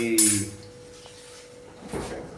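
A black iron kadai clanks and scrapes briefly in a home kitchen, a sharp metallic knock at the start and a softer clatter near the end, with quiet room noise between.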